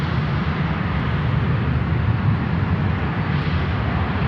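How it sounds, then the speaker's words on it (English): American Airlines Boeing 737 jet at Chicago O'Hare, a loud continuous engine roar with a dense low rumble, steady and unbroken across the whole stretch. "that's an American 737"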